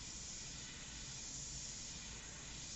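An airbrush sprays paint onto test paper while painting a portrait, giving a steady, close, continuous hiss that holds evenly for the whole stretch with no talking over it.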